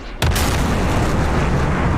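An AIM-54 Phoenix missile launches in a naval battle game with an abrupt sharp blast, then a dense, loud roaring rush that holds steady to the end, close and alone.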